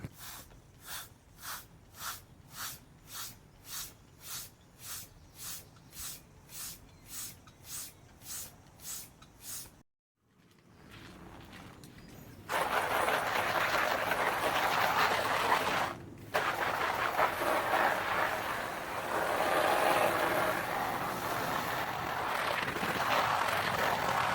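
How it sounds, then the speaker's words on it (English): A floor pump inflates a PVC paddling pool, its rhythmic strokes whooshing in a steady run of about fifteen pumps, then a pause and a continuous rushing hiss of air at close range. "you're going to pump it up"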